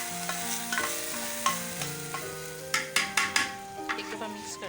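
Hot tadka stirred into nihari in a pan: a soft sizzle, then a quick run of scraping and clinking stirs near the end, all beneath background music.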